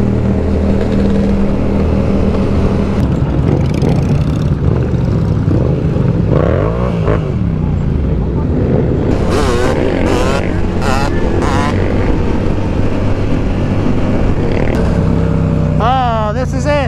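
Yamaha R7 sport motorcycle ridden on the road, its engine revving and rising in pitch through several gear changes, loud and close, with wind noise and a voice talking in places.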